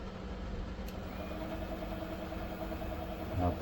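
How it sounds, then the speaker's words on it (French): Bafang BBSHD 1000W 52V mid-drive e-bike motor turning slowly on throttle before fitting to a bike, a soft steady whirring hum with faint vibration, close by under quiet room noise. "tester l'accélérateur s'il fait tourner le moteur"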